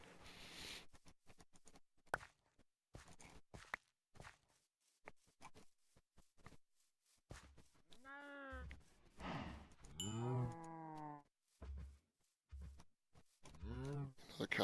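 Minecraft cows mooing in short, distinct calls scattered across a quiet farm scene, a few separate lows near the end mixed with small clicks and footsteps, with a player talking softly at times.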